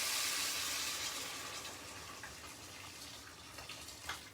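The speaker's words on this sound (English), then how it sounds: "So we've got our boiling water here." A pot of water boils for Chinese chicken noodle soup, giving a quiet, steady bubbling hiss that fades slightly and is joined by a few small pops near the end.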